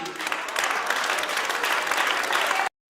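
A church congregation applauds, a dense steady wash of many hands clapping together for nearly three seconds before it cuts off abruptly.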